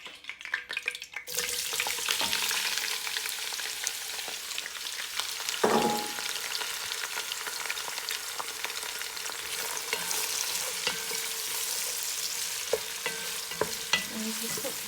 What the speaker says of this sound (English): the oil has started to sizzle, so I'm just going to add in my onions